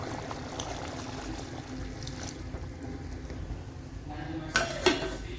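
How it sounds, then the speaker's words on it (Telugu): Water is poured into a pot of mutton paya soup, a low steady pouring rush followed by a couple of sharp clinks of a pot or utensil near the end, with soft background noise. "ఇంకా కావాలనుకుంటే కొంచెం వాటర్ కలుపుకోండి"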